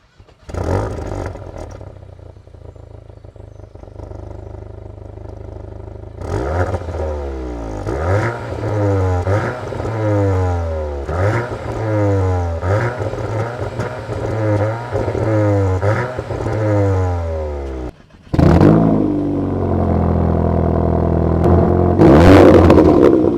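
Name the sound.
Cupra and Golf Clubsport engines starting and revving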